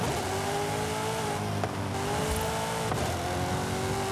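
Racing car engine in Forza Horizon 5 on a snowy winter street circuit, a steady loud drone held at partial throttle with small dips and surges, no full revving burst.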